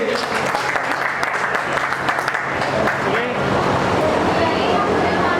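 An audience claps steadily for a couple at an NGO award ceremony, a dense sustained wash of applause with crowd chatter and a voice over it.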